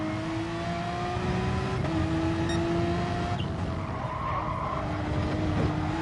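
Tires squeal and skid under late braking in a racing video game time trial, a sustained high-pitched screech riding over a steady engine drone that eases off and returns toward the end.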